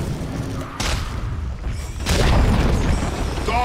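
A tower being destroyed in Dota 2: heavy booming thuds and crumbling blasts strike over ongoing battle noise, with a sharper crash about two seconds in followed by a sustained rumble.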